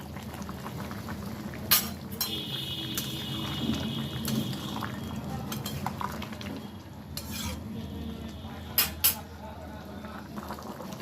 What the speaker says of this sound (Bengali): আমি এবারে ভেজে রাখা চিংড়ি মাছগুলো দিয়ে দিলাম।